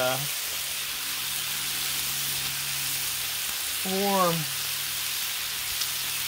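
Breakfast food sizzles steadily on a Blackstone griddle, a loud, even frying hiss that runs throughout while someone talks briefly at the start and again partway through.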